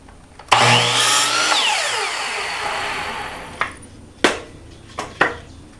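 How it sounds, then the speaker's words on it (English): A power tool whirs for about three seconds as it trims a wooden piece for a shed window, followed by a few sharp knocks of wood, all close and loud. "I'm going to go ahead and give it a little trim off."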